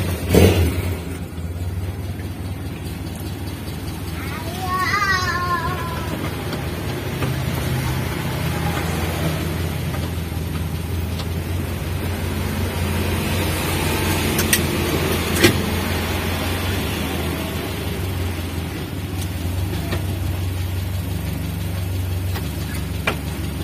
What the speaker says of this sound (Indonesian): Untuk tahap terakhir kita coba hidupkan mesinnya